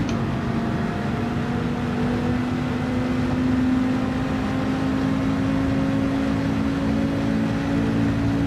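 A GT3 race car engine in a racing video game drones steadily at a constant pitch throughout, a continuous loud hum with no clear revving changes and no voices.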